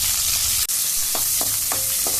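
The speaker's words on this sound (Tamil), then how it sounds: "தாளிச்சுட்டு வெங்காயம் அரைஞ்சதை கருவேப்பிலை போட்டு தாளிக்கிறேன்." Ground onion paste and curry leaves hit hot sesame oil already holding fennel and mustard seeds, giving a loud, continuous close sizzle broken by a few soft stirring scrapes.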